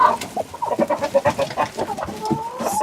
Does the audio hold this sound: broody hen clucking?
yes